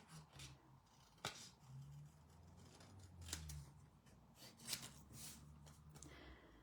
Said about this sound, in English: And we'll just trim around. Trim around this.